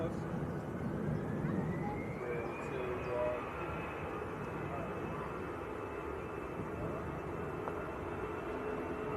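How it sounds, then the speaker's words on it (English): An EasyJet Airbus A320 rolls along at Manchester Airport, a moderate engine roar with a whine climbing then holding steady, heard from the far side under a low background. "EasyJet rolling away on the other side. EasyJet to Belfast in Northern Ireland. Airbus A320."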